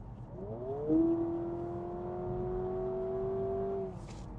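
A 2026 Honda Prelude sports car engine rises in pitch and then holds a steady, smooth drone as it accelerates, fading out near the end.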